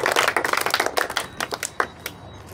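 A classroom of students claps for a classmate, a quick burst of rapid overlapping hand claps that thins out into a few scattered claps before fading.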